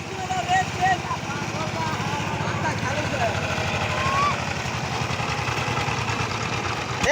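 A power tiller engine runs in a farm field with a steady, loud, chugging rumble that pulses evenly throughout, while a voice calls out faintly over it.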